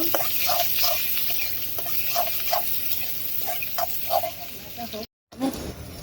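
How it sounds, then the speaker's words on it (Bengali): Green chilies and onions frying in a pan for a cabbage stir-fry: a steady close sizzle with soft, irregular stirring clicks, cut by a brief dropout near the end. "কাঁচামরিচ দিয়ে দিলাম এখন একটু ভেজে নিব"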